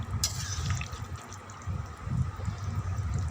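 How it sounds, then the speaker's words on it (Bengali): Water is poured into a cooking pot of potatoes and taro, a soft, low splashing and gurgling that rises and falls unevenly at moderate distance, with no voices. "পরিমাণ মতো জল দিয়ে দিব। এখন জল দিয়ে দিচ্ছি।"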